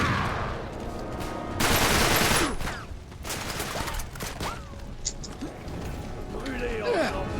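Gunfire aimed at the player in the video game Uncharted 3, a dense burst of shots and crashing impacts rising loudly around the two-second mark and then scattered shots and clatter, with game sounds and voices mixed in.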